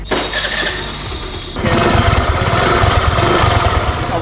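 A Suzuki Access 125 scooter engine starts with a brief crank, then catches at about one and a half seconds and settles into a steady, close idle.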